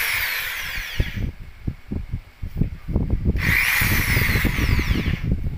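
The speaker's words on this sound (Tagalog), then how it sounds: "testing ito yung electric drill kung gumana" An electric drill runs steadily through the whole stretch, a whining motor hum with short bursts of revving, tested fresh out of the box alongside a welding machine kit.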